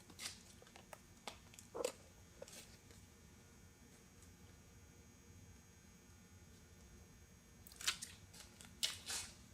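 Metal counter flashing for a roof being cut at its bottom edge, a few quiet, sharp snipping clicks scattered over faint background hum, clustered near the start and the end.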